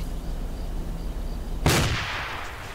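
A frag grenade explodes in Arma 2: one sudden, loud, broadband blast that hits hard and then decays over about a second amid steady background rumble.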